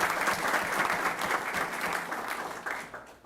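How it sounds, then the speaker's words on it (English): An audience at a city commission meeting applauds Hidalgo County Judge Richard Cortez, a full, sustained round of clapping that carries at even strength and eases off slightly near the end. "How about a big round of applause for"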